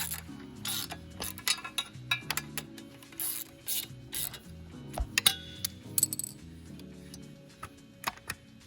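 A ratchet tightens FMF exhaust bolts on a 2024 Honda CRF250RX dirt bike, giving rapid clicking runs broken by sharper metallic clinks, close and fairly quiet, with no talk.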